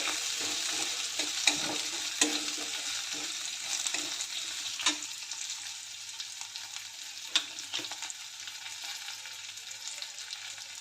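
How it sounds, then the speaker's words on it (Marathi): Soaked moong dal sautéed in a pan with garlic and peanuts gives a faint, continuous sizzle with occasional light scrapes and taps of stirring, no talking. "मुगाची डाळ, घालून 1-2 मिनटं परतून घेऊया."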